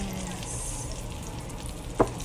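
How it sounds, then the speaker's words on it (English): Shrimp and sausage simmer in cream in a pan with a steady close sizzle and bubbling, broken near the end by a single sharp clink. "We'll let it simmer for 5 minutes."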